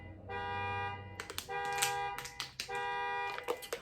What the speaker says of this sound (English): Whose car is beeping like that?